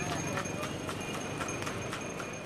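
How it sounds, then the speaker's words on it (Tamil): Hooves of a hired horse cart in Kanchipuram clip-clop in a steady, even rhythm close by, with faint voices underneath. "வாடகை குதிரை வண்டிகள்தான்."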